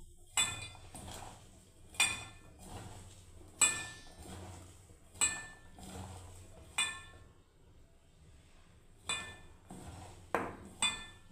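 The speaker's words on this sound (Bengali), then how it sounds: "বেসন দিয়ে বন্ধুরা মাখতে থাকবো" Sweet corn pakora batter being mixed with gram flour and rice flour in a bowl, with a regular series of clinking spoon knocks against the bowl, each followed by softer stirring.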